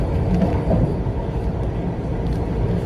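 Steady, loud rumbling rail noise near the door of a Vande Bharat train, with a constant low roar and rattling, close by and continuous.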